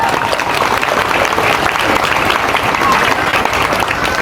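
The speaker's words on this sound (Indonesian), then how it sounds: "Maka tepuk tangan untuk para santri." Students at an Islamic boarding school applaud together in a loud, steady burst of clapping that fills the whole stretch without a break.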